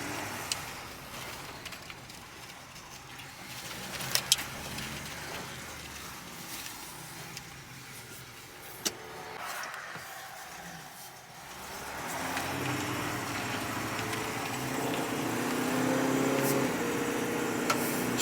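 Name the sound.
1965 Chevrolet Impala driving on test drive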